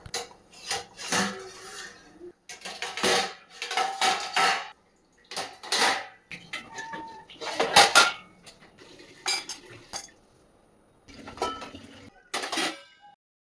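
Dishes and pots being washed by hand at home, with repeated clattering and clinking of metal utensils in irregular bursts separated by short pauses, close and fairly loud, with no talking.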